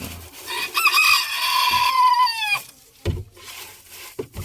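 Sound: chickens clucking in coop

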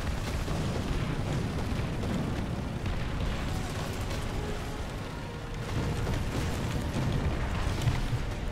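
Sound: artillery explosions in the video game War Thunder

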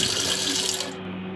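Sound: rinsing mutton intestines under running tap water

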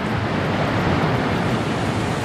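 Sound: river flowing beside a lodge

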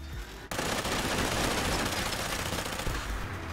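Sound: Tesla arc energy weapon firing in Fallout 4 video game

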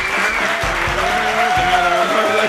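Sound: studio audience applause

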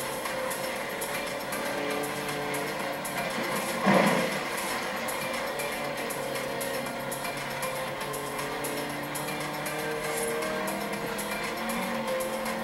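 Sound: old rally car driving in video game Forza Horizon 3

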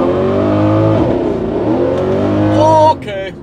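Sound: Mercedes C63 accelerating with wheelspin, no traction

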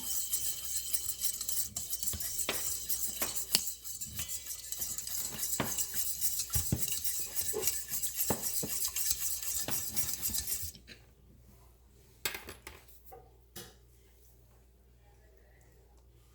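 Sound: spoon stirring sugar to dissolve it in a bowl

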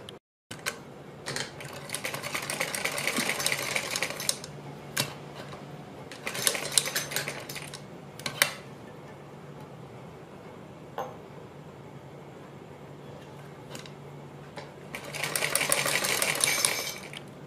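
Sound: sewing machine stitching cord pieces onto net neck design

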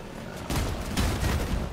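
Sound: gunfire in the video game Crossout

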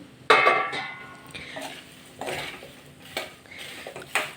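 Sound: stirring coriander and puffed rice mixture in a pan

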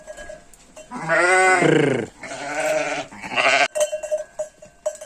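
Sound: sheep bleating in a barn

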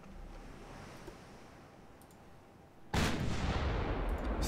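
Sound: warship guns firing armor-piercing shells in Ultimate Admiral: Dreadnoughts video game

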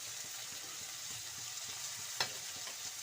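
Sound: coriander, ginger and garlic frying for lentil curry

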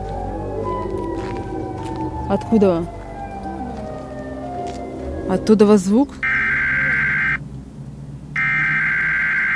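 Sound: Siren Head monster siren call

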